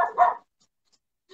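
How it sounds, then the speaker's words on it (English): A dog lets out a couple of quick, close barks indoors, then falls silent before a faint stir of sound at the end. "Please, can someone get this dog out of here?"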